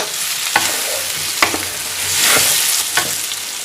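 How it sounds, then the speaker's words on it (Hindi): Spiced cabbage and mixed boiled vegetables sizzle in a pan as a spoon stirs them, with three or four distinct scraping knocks over a continuous hiss, close and loud, and no speech. "अच्छी तरह इसको मिक्स करना है ताकि सारे मसाले अच्छी तरह गोभी और बाकी चीज़ों में भी आ जाए"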